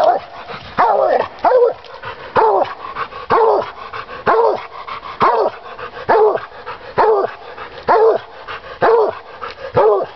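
A seven-year-old champion coonhound barks up a tree after treeing for a long stretch, giving loud, close, steady barks repeated about once a second without pause and with no talk.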